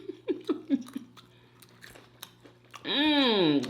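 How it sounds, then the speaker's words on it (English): Crunchy fried chicken is chewed in a run of close, crisp bites and crunches, followed by a brief voiced sound as the eater savors it. "Crunch on this freaking chicken."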